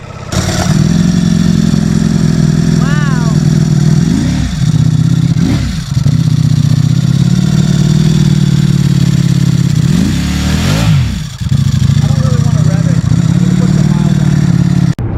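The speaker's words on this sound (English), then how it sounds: "taking my brand new Streetfighter Lamborghini edition for a ride" A Ducati Streetfighter Lamborghini edition motorcycle being ridden, its engine a loud, close, steady drone with several brief dips and swells as the throttle changes and gears shift, and wind rush over it.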